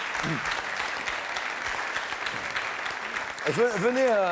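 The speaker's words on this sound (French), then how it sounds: "nous accueillions bien sûr Michel, que l'on applaudit également" A studio audience on a French TV game show applauds steadily throughout, a dense even wash of clapping, while a voice speaks over it near the end.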